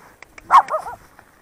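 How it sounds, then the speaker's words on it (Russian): Village dogs from a local pack in rural Krapivino give a short burst of barks and yelps, fairly near, with a few quieter yips around them. "Местная банда собак."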